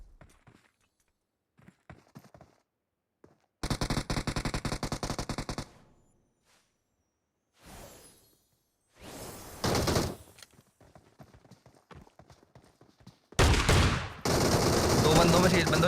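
Gunfire in the mobile battle royale game BGMI comes in dense automatic bursts separated by quieter stretches with footsteps, loud and close, ending in a sustained volley.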